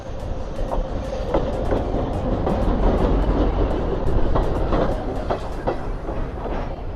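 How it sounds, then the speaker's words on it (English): A train arrives at a station in Colombo, Sri Lanka, at night, rumbling close by with steady rail noise and rhythmic clickety-clack of wheels over track joints, loud and continuous throughout. "And the train is actually coming."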